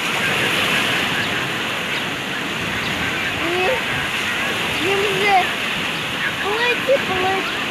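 Sea waves wash steadily onto Odessa beach in a continuous broadband surge, with gulls calling intermittently over the roar.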